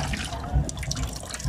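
Fish rinsed under a running tap for a fish soup, a close, steady splashing of water over the fish, with no speech.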